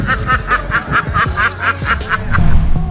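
A duck quacks in a steady run of about a dozen loud, close calls while grabbing food from a cat, with low background rumble underneath.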